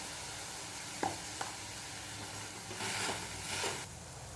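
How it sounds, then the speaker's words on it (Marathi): A vegetable being sautéed in a pan, a soft, steady sizzle broken by two sharp clicks of a utensil and then swells of stirring noise, heard close and fairly quiet. "व्यवस्थित अशी ही भाजी परतून घ्यायची आहे"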